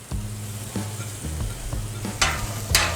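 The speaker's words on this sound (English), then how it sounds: "Now we're going to go ahead and drop our veggies." Vegetables hit a 36-inch Blackstone griddle and break into loud, steady sizzling, with repeated scraping knocks from a spatula and a couple of sharp metallic clangs near the end.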